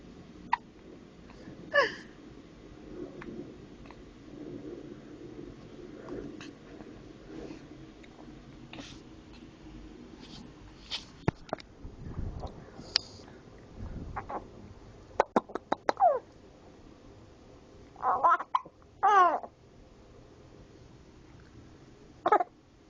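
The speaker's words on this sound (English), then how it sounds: "You hiccup like your mom." A four-month-old baby hiccups repeatedly in quiet, irregular bursts, each a short sharp catch of breath, with small fussing sounds scattered between them.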